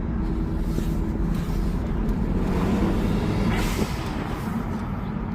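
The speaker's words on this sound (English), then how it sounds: "So hopefully the burbles and the pops get caught in this video because this car sounds amazing" A 2013 BMW 335is with an N54 engine and DCT gearbox drives along, its low engine drone steady under road and wind noise, heard from inside the cabin with no distinct pops.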